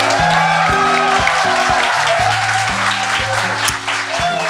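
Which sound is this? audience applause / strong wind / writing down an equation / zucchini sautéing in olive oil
audience applause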